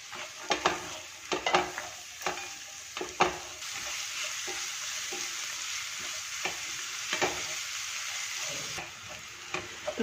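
Onions frying in a pan with ginger for a hotel-style palak paneer, a steady close sizzle broken by repeated stirring scrapes and clinks of the spoon, with no talking.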